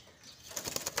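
Doves caught in a bird trap flap their wings, a quick run of soft fluttering beats rising in the second half over faint background hiss.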